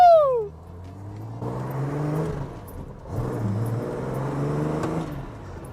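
A classic Nissan Skyline Hakosuka accelerates from inside the cabin, its engine note climbing through two pulls with a gear change between them, loud and close with no talking.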